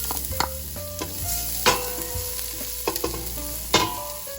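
Ginger and garlic sauté in hot cooking oil in a casserole, a steady sizzle broken by sharp clinks and scrapes of a utensil against the pot as the aromatics are stirred.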